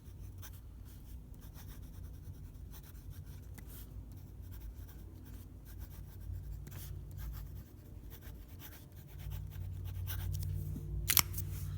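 A Parker Sonnet fountain pen writing compact handwriting on paper, steady soft scratching strokes with brief pauses between words, close and quiet, with a sharp tap near the end.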